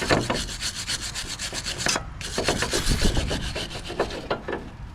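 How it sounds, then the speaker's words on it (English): A wire brush scrubs rust off the rear brake hub of an Infiniti QX80 in fast, loud, rhythmic back-and-forth strokes close by, with one brief pause midway. "Wire brush."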